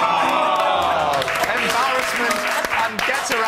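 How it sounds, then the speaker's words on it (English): A live studio audience on a TV chat show claps in a dense burst of applause, with tonal sounds and voices mixed in beneath the clapping. "round of applause"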